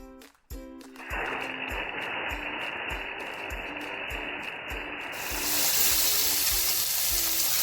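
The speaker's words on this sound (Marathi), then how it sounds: "कढई तापवलेली आहे थोडंसं तेल टाकलं आहे बघा आणि आता याच्यामध्ये ही कोलिम मी टाकते आहे" Small river prawns drop into hot oil in a wok and sizzle loudly and steadily, a bright crackling hiss over repeated rhythmic mechanical clicking.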